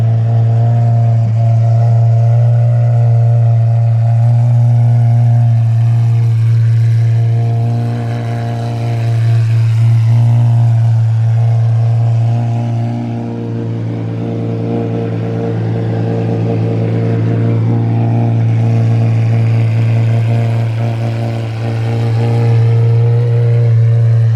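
A 2020 Lamborghini Aventador SVJ engine runs loudly and steadily nearby, its pitch rising and falling slightly as it revs over a long stretch.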